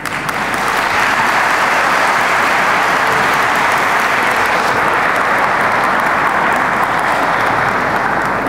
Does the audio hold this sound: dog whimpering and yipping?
no